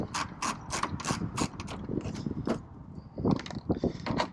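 Trim screws come out of a mud flap on a Ram Rebel, with rapid ratcheting clicks from a hand tool in quick repeated bursts, close and fairly loud, and a brief pause midway.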